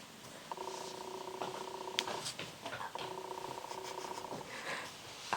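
A cat purrs close to the mic in two steady, sustained stretches separated by a short pause, in a quiet indoor setting during a whispered cookbook reading.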